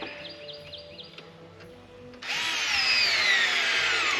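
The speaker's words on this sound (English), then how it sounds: "Grab the screw gun first, and what tip it has on it. Find 2 screws that'll fit that tip. Screw it down to there." A screw gun drives Phillips head screws into wood on a homestead turkey house build, its motor starting about halfway through and whirring loudly and steadily to the end, with faint bird chirps earlier.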